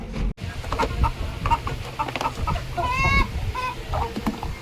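Several chickens cluck and squawk close by in a busy, irregular chorus, with one brief higher trilling call partway through.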